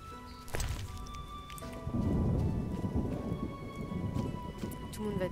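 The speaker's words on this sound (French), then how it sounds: "J'ai l'impression qu'il pleut tous les jours" Steady rain in The Witcher video game pours down with a dense hiss, broken early by a low rumble of thunder; the downpour continues evenly throughout.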